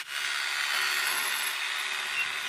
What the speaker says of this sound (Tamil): நம்ம மார்க் பண்ணது மட்டும் அப்படியே ஒரு ட்ரில்லிங் மிஷின் வச்சு பொறுமையாக அப்படியே கட் பண்ணி எடுத்துடலாம்